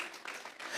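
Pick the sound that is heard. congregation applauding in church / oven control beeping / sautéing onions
congregation applauding in church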